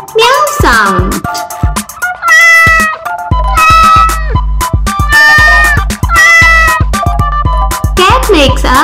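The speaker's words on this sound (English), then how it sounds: "Cat makes a meow sound." A cat meows several times in quick succession, loud and close, with short drawn-out cries and brief pauses between them and nothing else heard.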